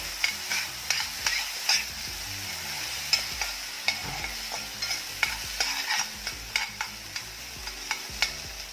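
Soaked sago pearls being sautéed briefly in a little ghee in a pot, with repeated spoon-scraping stirs and clicks over a light sizzle, close and clear, no talking.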